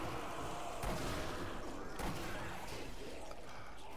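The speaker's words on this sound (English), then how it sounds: "You're firing as well." Gunfire from the zombie shooter game Zombie Army Trilogy, a dense, steady wash of shots and impacts with a couple of louder thumps standing out, running the whole way through.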